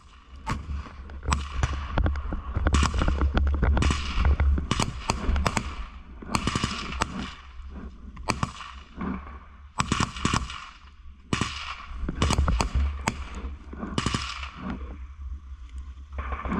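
Gunshots in combat, heard as dense, rapid bursts of loud cracking shots, some close and some overlapping, continuing steadily through the stretch with little pause.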